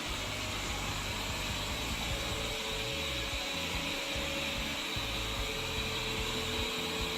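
A Wyze robot vacuum cleaner runs with a continuous steady motor whir and brush hum, close and even throughout with no pauses, with no voices present.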